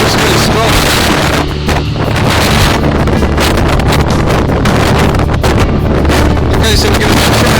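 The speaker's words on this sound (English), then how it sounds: "as you can tell, the wind's really strong." Strong stormy wind gusts at a harbour wall with big waves nearby, a loud continuous roar buffeting the microphone throughout.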